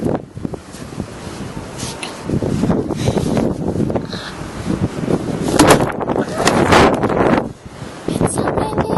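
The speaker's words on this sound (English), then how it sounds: "It's so windy!" Strong wind buffets a microphone outdoors on a sunny day, making a loud, continuous rumbling roar that surges and dips throughout.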